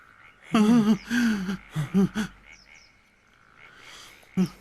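Frogs croak in loud, close, warbling bursts, several in quick succession, then a quieter stretch and one last croak at the end.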